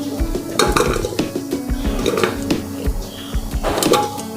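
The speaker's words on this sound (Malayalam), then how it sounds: "ആദ്യം തന്നെ ഈ ഉരുളക്കിഴങ്ങ് കുക്കറിലേക്ക് ഇടുക" Raw potatoes dropped into a pressure cooker while a vegetable curry is prepared, with clanking metal, clattering pieces and pot knocks in a busy, close kitchen sequence.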